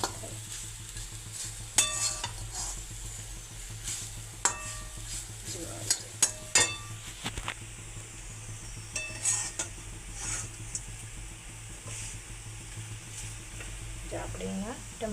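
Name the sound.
roti pieces being stirred and fried in a pan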